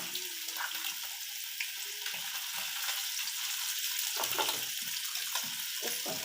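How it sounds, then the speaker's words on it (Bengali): Hot water poured onto dried shrimp in a kitchen while cooking Bengali kochur loti with coconut, a steady close rush of running water with small splashes and a faint sizzling edge throughout. "একদম ড্রাই হয়ে গেছে, তো আমি এখানে একটু গরম জল ব্যবহার করছি"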